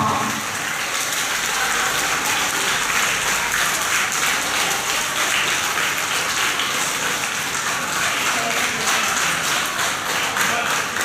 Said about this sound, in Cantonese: 請大家咧一次過俾啲掌聲，以上獲得傑出表現獎5人班嘅同學